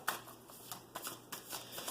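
A deck of tarot cards is shuffled close up in quick, crisp bursts of riffling and rustling that come in several short rounds, alone and without talk.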